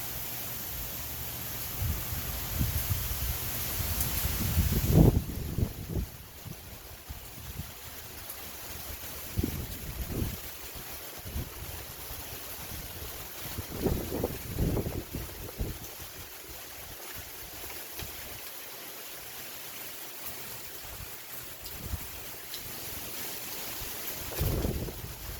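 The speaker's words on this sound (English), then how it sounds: "Windy, rainy." Wind and rain from Tropical Storm Elsa at night, a steady broadband rush with a loud buffeting gust early on and repeated low thumps of wind hitting the microphone throughout.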